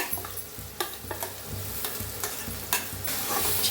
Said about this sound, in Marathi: सगळा मसाला भाजून घेऊया हलवून का नाही भाजून घ्यायचा